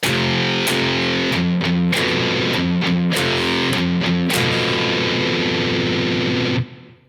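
Loud distorted electric guitar plays a fast, choppy punk riff with sharp accents, then lets the last chord ring out and stop.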